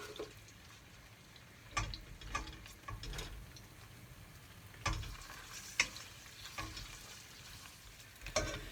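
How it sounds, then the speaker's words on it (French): Anchovies melt in oil in a pan with garlic, giving a faint steady sizzle broken by scattered clicks and scraping stirs of a utensil against the pan. "le but, c'est de faire fondre les anchois dans l'huile"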